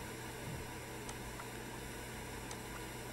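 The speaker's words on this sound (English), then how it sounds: "Let's turn that off, because it's just nothing but white noise." Constant static white noise from a device in the point-and-click game Kathy Rain, a flat, unbroken hiss with a low hum underneath and a few faint clicks, steady and moderately loud throughout.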